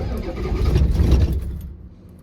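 A 1985 Ford F250 with a 6.9 IDI diesel engine cranks on a cold start after glow-plug cycling, a loud, close, uneven churning rumble that swells and then fades out within about two seconds.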